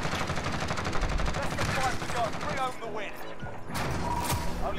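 Dense, continuous gunfire from Call of Duty: Modern Warfare fills the clip as overlapping rapid shots and clatter, with a few distinct cracks near the end and a voice talking underneath.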